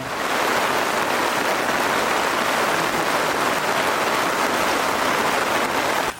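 Heavy monsoon rain pours steadily at a riverside campsite near Kolkata, a dense, even roar of downpour with no pauses and no voices, constant and close throughout.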